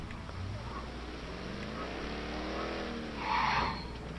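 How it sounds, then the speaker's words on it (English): A car engine from the video game Mafia 3 drones and rises in pitch at moderate level, the revving harmonics climbing over a few seconds before a brief louder burst near the end. "This car just sounds disgusting."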